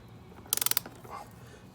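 A ratcheting torque wrench tightens a bead lock bolt on a UTV wheel, a quick close burst of about six sharp ratchet clicks followed by quiet.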